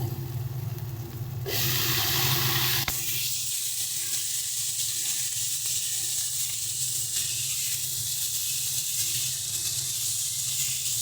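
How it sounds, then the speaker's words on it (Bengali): Green chillies, garlic and tomato hit hot oil in a pan with a loud, steady sizzle and hiss. It bursts in near the start and carries on without a break, with no talking. "সমস্ত কিছু একটু ভেজে নিচ্ছি"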